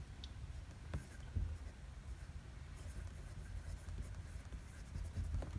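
A handmade Dryad Pens fountain pen with a broad nib scratches softly across paper in faint, close strokes, with a few small taps and no talk.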